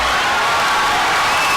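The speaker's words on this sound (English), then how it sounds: "Listen to the Chicago crowd as they're ready for a sectional championship tomorrow on their home floor." East Chicago home basketball crowd at a high school sectional game roars continuously, a loud dense wall of cheering and whooping with no break.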